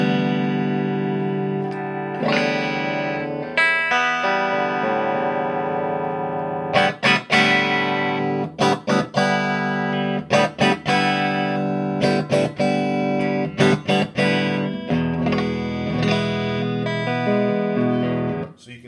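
An electric guitar plays through a Port City amplifier set at volume 3 with the tone control centred, giving full, sustained chords and riffs with short breaks, loud and close with no voices.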